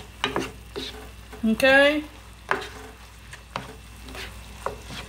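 Minced garlic and ground beef browning in a pan for cheeseburger pie give a steady soft sizzle, broken by several sharp scraping stirs, with a person speaking briefly over the cooking.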